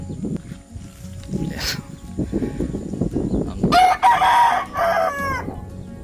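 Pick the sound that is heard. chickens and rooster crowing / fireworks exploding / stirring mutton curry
chickens and rooster crowing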